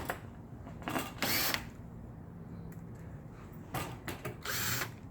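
Power screwdriver driving screws into a Toshiba fax board during installation, several short whirring bursts separated by pauses, close and moderately loud.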